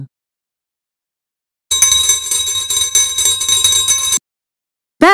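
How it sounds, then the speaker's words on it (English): A bell rings in a bright, metallic burst of about two and a half seconds, loud and close, set between silences with no voices. "Bell."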